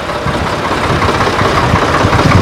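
A Ford tractor engine runs at a steady idle after starting, a dense low rumble with constant mechanical knocking, loud and close throughout with no voices.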